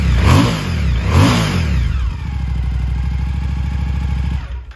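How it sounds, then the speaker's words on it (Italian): A Suzuki V-Strom 1050 XT motorcycle engine blips twice in loud, rising revs, then settles into a steady, throbbing idle close by before cutting off at the end. "prima di farlo però devo portare avanti la classica prova sound."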